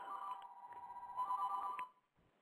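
A telephone rings on a radio show's call-in line, two trilling bursts of electronic ringing at moderate level, the second slightly louder, then cutting off into near silence.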